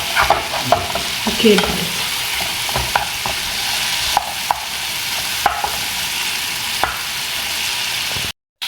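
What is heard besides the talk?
frying meat in a pot for tlitli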